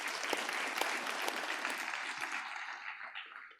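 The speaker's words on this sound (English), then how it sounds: "I think we should give them a round of applause also" Applause for uniformed security personnel at a South African democracy anniversary event, a steady crowd clapping that fills the space and then thins and fades out toward the end.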